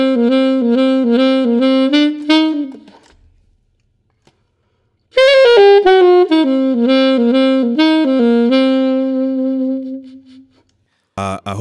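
Solo saxophone plays a complete lick, close and bright: a run of quick notes, a brief pause, then a longer flowing phrase ending on a held note, with no accompaniment or talk.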